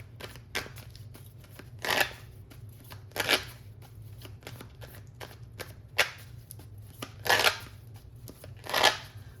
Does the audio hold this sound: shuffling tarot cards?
yes